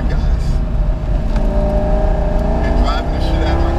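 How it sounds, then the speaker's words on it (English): A 400whp Chevrolet C5 Corvette Z06 engine revs hard while driving, a loud close-up roar with rising pitch sweeps, and a voice talking over it. "driving the shit out of my car"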